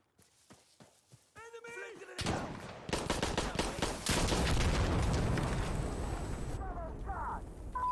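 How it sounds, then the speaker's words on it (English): A rocket strikes a weapon cache in a first-person shooter video game, setting off a big, loud explosion amid gunfire bursts, with a long rumbling roar that persists and voices talking over it. "Whoa. What was that big explosion?"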